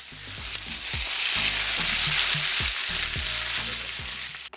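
A steak sizzles steadily in a hot pan while it is flipped, with a constant hiss of frying and a string of light knocks and scrapes from the utensil.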